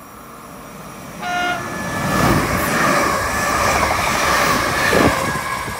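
A class 380 electric train passes non-stop at Hillington East station, with a short horn toot followed by a loud, steady rush and rumble of wheels and carriages sweeping close by.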